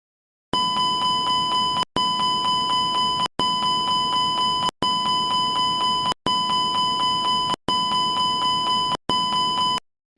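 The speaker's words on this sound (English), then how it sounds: "You hear a continuous repetitive chime and see the master warning lights flashing." An Airbus A330 ECAM master warning sounds its continuous repetitive chime: seven loud, evenly spaced tonal bursts separated by brief gaps, heard alone with no voices.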